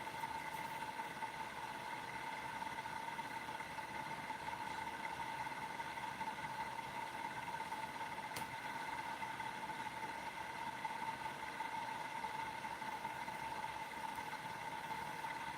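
A pulse motor runs at roughly 1300 to 1600 RPM with a faint, constant mechanical hum and steady whine, unchanging throughout apart from one brief click midway.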